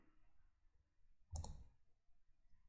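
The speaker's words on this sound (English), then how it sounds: "so I can click on download" A single short mouse click on a download button sounds crisp and faint against near silence.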